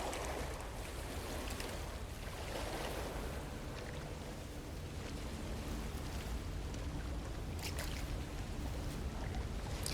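Ocean waves in No Man's Sky, a constant broadband wash of surf rolling at moderate volume with no distinct breaks or voices.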